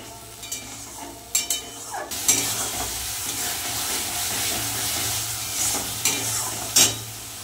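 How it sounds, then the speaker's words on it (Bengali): Spice paste for rohu fish kalia is stir-fried in a pan. A continuous close sizzle runs throughout, with intermittent scraping and clinking from a spatula against the pan. "এবার ভালো করে মশলাটা একদম সুন্দর করে কষিয়ে নেব"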